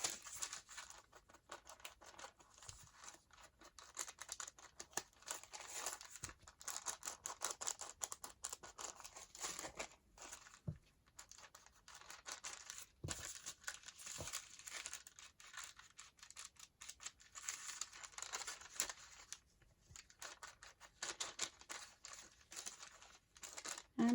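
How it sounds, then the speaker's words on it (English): Paper bags being handled and crinkled while being inked for crafting, with close, crisp rustles and crackles coming in irregular bursts throughout, quiet and with no talking. "Can you hear that paper?"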